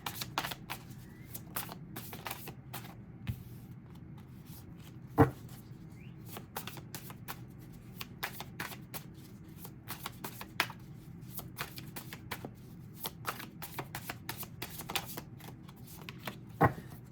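Tarot cards being shuffled by hand, a long run of crisp riffling snaps and soft slides at close range, quiet and steady with occasional sharper clicks and no talking.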